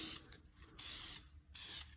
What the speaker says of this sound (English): we're going to go ahead and spray a couple test sprays